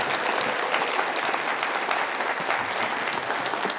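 A crowd applauds at the close of a lecture concert, continuous even clapping heard from a moderate distance, fairly quiet and unbroken throughout.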